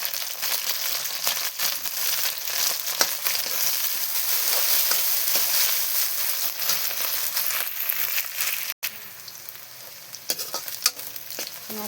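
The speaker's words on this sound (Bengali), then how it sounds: "আমার পেঁয়াজটা ভাজা ভাজা হয়েছে" Onions and green chilies fry in a pan with a steady, loud sizzle and crackle, and occasional scraping stirs run through it.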